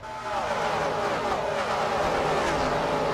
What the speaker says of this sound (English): Jake Baskinger in the 18 retro Interstate Batteries car.